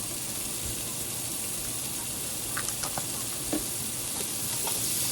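Softened broccoli is mixed with salt in a pan on the stove, giving a constant close sizzle with a few light clinks and scrapes of the spoon, and no one speaking.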